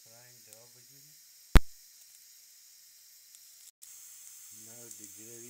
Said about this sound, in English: I am frying the aubergine.